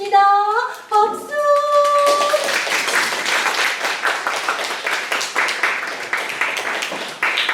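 An audience claps at a children's day event at a theatre café. A short sung melody ends, and then scattered hand claps swell into steady applause that carries on to the end.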